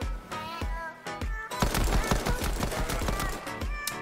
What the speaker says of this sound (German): Pistol, absolut unterschätzte Waffe